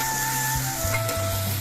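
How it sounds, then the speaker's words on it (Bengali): Spice paste being stir-fried in a pan for a mixed vegetable curry, a close, loud sizzle with the rasp of a spatula scraping through the thick mixture. "এবার মশলাগুলো কিছুক্ষণ কষিয়ে নেব।"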